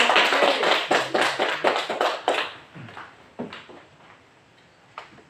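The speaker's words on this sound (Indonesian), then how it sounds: "berikan tepuk tangan" Pupils in a classroom clap after a short story reading, with a burst of sharp, uneven claps and taps that thins into a few scattered, fading hits.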